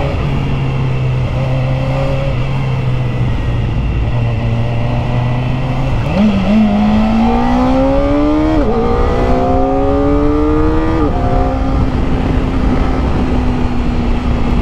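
Kawasaki ZX4RR sport motorcycle with a restrictive stock muffler and catalytic converter, its inline-four revving toward a 16,000 RPM redline in repeated rising, screaming pulls, loud and close throughout.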